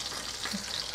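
Dense, continuous sizzle of breaded pork cutlets (Polish schabowy) frying in hot oil, close up and even in level, with no talking.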